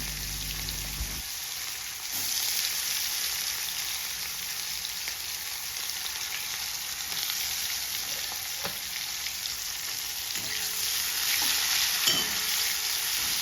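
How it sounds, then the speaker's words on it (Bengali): Chopped onions drop into hot oil tempered with cumin and dried chilli, setting off a loud, steady hiss of frying that carries on evenly with a few faint clicks of stirring. "এবার দিয়ে দেবো ওই ফোড়নের মধ্যে পেঁয়াজ কাটা ছিল সেই পেঁয়াজগুলো"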